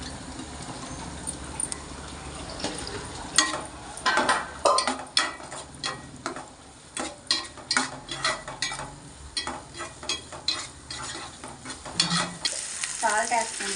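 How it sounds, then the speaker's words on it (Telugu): Onions hiss and crackle in hot oil with turmeric in a pan for spinach curry, and regular spatula strokes scrape through the middle stretch, close up with no talking. "ఫ్రెండ్స్ ఉల్లిపాయలు వేస్తున్నాను."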